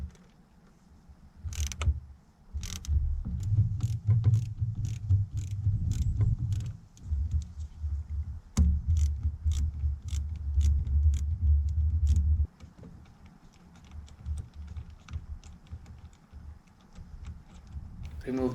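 A 10mm nut on the negative battery terminal of a Citroen Saxo being loosened with a ratchet, bursts of rapid clicking and metallic ratcheting that stop and restart, with speech in the background.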